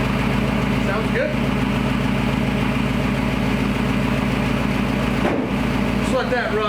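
A Gen 3 Hemi V8 in a 1952 Dodge pickup idles steadily with exhaust fitted, a deep, even low rumble running throughout, close and loud, with brief shifts in tone near the start and end.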